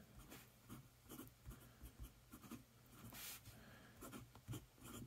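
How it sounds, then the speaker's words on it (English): A Kiwi Pens Jumbo ACR ebonite fountain pen with a Kanwrite BB nib scratches across paper in short, close, quiet strokes, pausing briefly between words. "let's get into a little writing sample"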